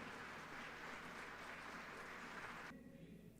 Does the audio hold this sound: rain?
no